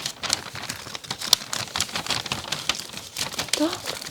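A paper bag from a parcel is tipped out and crinkled, giving dense, close rustling and crackling bursts with small tapping items falling out, while someone speaks over it.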